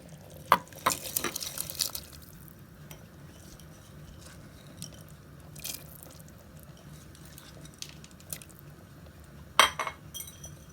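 Soaked lentils go into a pot of harira soup with cooked chickpeas, giving a few sharp clinks and clatters of utensil on pot, then soft watery stirring and quieter knocks, with one more clink near the end.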